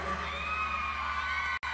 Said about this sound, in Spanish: ¿Cómo están esas chicas gritonas?